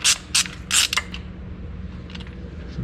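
Ratcheting clicks as bolts are snugged down during a transmission install on an International Harvester 1066 tractor, a few quick bursts of ratchet and metal creaks up close in the first second, then a low rumbling workshop background.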